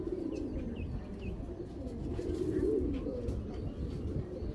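Low, throaty cooing from a flock of Giribaz tournament pigeons rolls on continuously, several birds overlapping close by, with a few faint chirps above the steady murmur and no talk.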